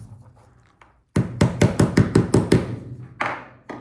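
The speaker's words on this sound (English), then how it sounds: "Need a hammer here." A hammer taps a ball bearing into a 3D-printed finger, about eight quick, sharp knocks in a steady run, then two more spaced blows. The knocks are close and loud against a quiet room.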